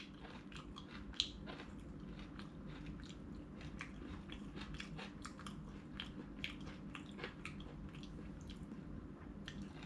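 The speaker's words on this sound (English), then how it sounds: "you eat the fava bean, you just eat the bean inside right here" Spicy fava beans are chewed close up, soft repeated crunches and wet squishy bites over a quiet room hum, with one sharper crack early on.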